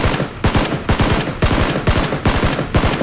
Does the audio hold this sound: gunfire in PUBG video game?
yes